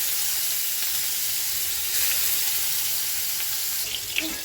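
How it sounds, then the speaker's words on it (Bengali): Salmon fries in hot oil in a wok, giving a continuous, close sizzling hiss that stays fairly even throughout, with no talk over it. "কড়াইতে তেল আমার গরমও হয়ে গেছে। দিয়ে দেবো মাছগুলো, এক এক করে ভেজে নেব"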